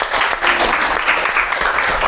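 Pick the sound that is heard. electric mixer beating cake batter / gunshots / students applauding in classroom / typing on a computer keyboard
students applauding in classroom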